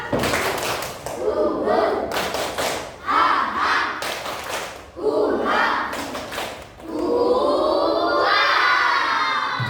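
Children in a group perform the tepuk rimba clapping chant, a loud crowd of young voices shouting in bursts with sharp hand claps and thuds, ending in a sustained collective cheer.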